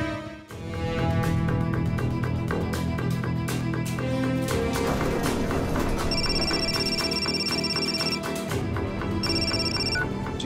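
A telephone rings repeatedly in a domestic setting, its bright electronic ringtone pulsing in a steady rhythm over a busy background of music, clear and prominent throughout with a short break partway.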